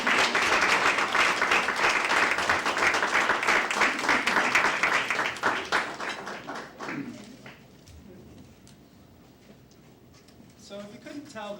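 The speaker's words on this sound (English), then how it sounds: "applause." Audience applause for a guest, Glendora, at a live chat event: brisk clapping for about six seconds that thins out into scattered claps and a quieter stretch, with a few taps near the end.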